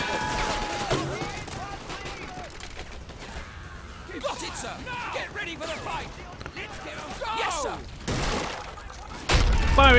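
Battlefield combat in the Men of War: Assault Squad strategy game, Operation Torch: repeated loud gunshots and explosive bursts, with an artillery strike crashing in near the end, under continuous game voices and talking.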